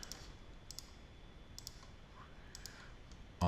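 Quiet computer mouse clicks come in small pairs and singles at an irregular pace while a model is rebuilt in Rhino CAD software. The room is otherwise faint and empty, with no talk.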